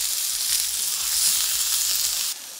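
Onions sautéing in a pan for a curry sauce, a bright continuous close sizzle with soft low bumps underneath, cutting down abruptly near the end.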